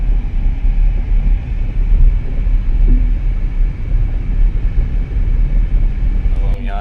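Suzuki Swift GLX 2026 on low-profile tyres driving slowly along an unpaved dirt road, a steady low engine and road rumble close by throughout with no breaks.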